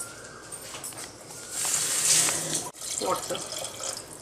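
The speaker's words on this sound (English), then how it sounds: "And then pour 1 glass of water." A glass of water is poured into a cooking pot of mutton curry on high heat, a short splashing gush rising in the middle of quiet kitchen noise.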